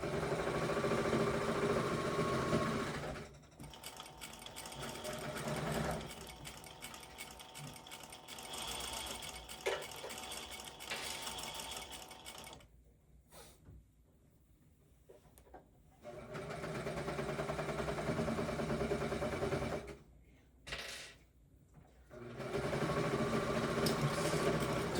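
Sewing machine stitching silk scrunchies, running in long steady bursts of fast mechanical whirring and clatter close by, separated by brief pauses.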